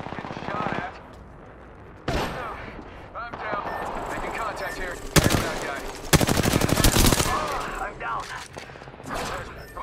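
Video game firefight with loud machine-gun bursts and rapid gunshots, heavy volleys arriving in clusters partway through, while players shout callouts over the shooting.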